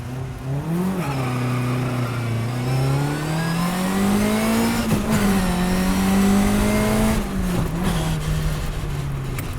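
A 1957 Lotus 7 racing car engine revs and pulls away close by, its loud droning note rising and falling with throttle changes as it drives, with no voices over it.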